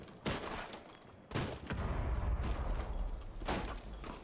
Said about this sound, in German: das müsste man eigentlich auch von unten hier in die Ecken schießen können